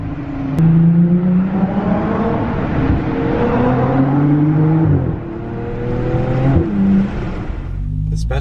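A Ferrari with a dual clutch transmission accelerates hard from inside the cabin, its engine note climbing in rising sweeps cut by quick, abrupt shifts, with a faint voice briefly under the engine.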